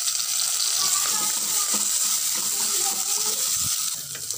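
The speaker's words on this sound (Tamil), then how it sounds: "அந்த சின்ன தக்காளி பழத்தை சேர்த்து நம்ம வதக்கிக்கலாம்" Small tomatoes sautéing in a pan for a Tamil parai fish curry give a loud, steady hiss and sizzle with faint scraping, continuous throughout with no talking.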